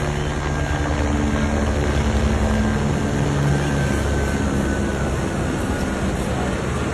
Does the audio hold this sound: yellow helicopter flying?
yes